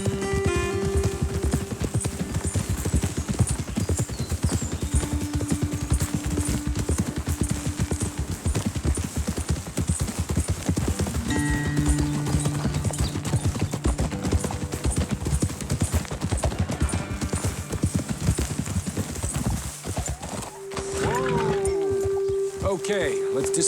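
Horses ridden in Red Dead Redemption 2 clip-clop in a steady, continuous rhythm of hoofbeats, with voices talking and sustained music tones over them.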